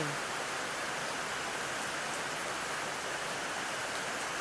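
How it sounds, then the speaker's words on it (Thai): Heavy, steady rain pours down outdoors in a dense, unbroken hiss that holds at an even level from start to finish, with no voices. "บรรยากาศฝนตกอย่างหนักเลยทั้งวัน"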